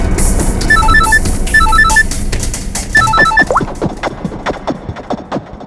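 A telephone rings in a police-drama scene from the Indian TV series CID, its electronic trill coming in three short repeated bursts over busy background noise, then fading into scattered thuds and clatter.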